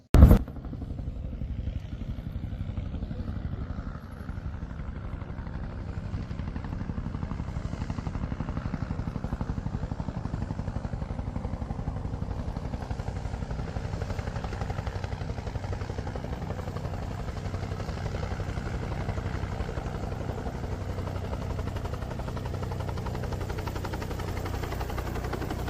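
A helicopter's engine and rotor drone steadily and loudly after a brief sharp bang at the start, holding a continuous rumble without letup.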